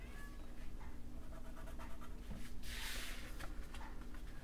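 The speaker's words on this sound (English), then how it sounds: "You hear my cat in the background." A pet cat gives several soft meows in the background of a quiet craft-table session, with light rustling and a brief burst of paper handling, and no voices.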